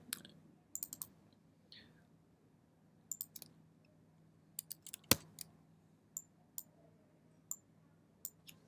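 Computer mouse buttons click while a VR project is built, sparse sharp taps close by in a quiet room, some single and some in quick pairs, with one louder click midway and no talk.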